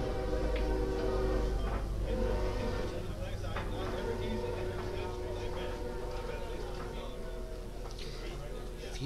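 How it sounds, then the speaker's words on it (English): Distant train rumbling past outside a pool bar during a pool tournament, a continuous low roar with a faint horn-like drone carrying under room noise throughout. "If you could just not hear that train,"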